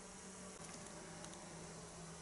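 Honeybees buzz at an opened beehive in February, a faint, steady hum of many insects that holds without break, with no voices.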